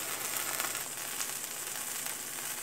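Salisbury steak sizzles steadily in a cast iron skillet, a continuous close hiss of frying with faint crackles and no voices over it.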